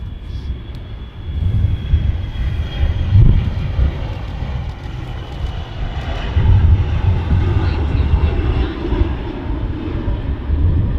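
A FedEx cargo aircraft at Manchester Airport, its engines making a loud, steady roar that swells and rumbles with wind buffeting the microphone, while people talk quietly nearby.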